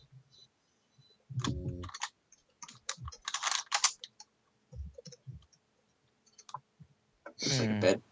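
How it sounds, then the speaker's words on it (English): Fast, light clicking of a computer keyboard during a Minecraft drawing game, in quick bursts separated by pauses, with faint voices talking. "you're typing too fast again"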